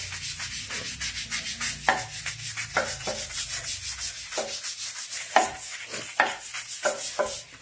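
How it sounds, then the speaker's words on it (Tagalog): Steady scrubbing of a tile surface with MaxGlow TNT toilet and tile cleaner, close rhythmic rubbing strokes repeating evenly, alone without talk. "So, try natin siyang kuskusin."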